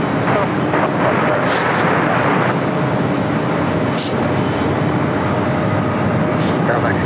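A heavy airliner, flight Mexico 647, takes off from runway 25 right at LAX, a loud, continuous jet roar filling the whole stretch while radio chatter runs over it.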